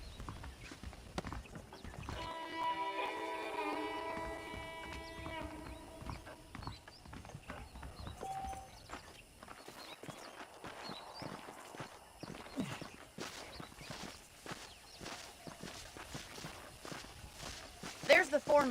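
Horse hooves clip-clop steadily at a walk in the Red Dead video game, fairly close and mixed with game ambience and faint background sounds, while people talk over parts of it.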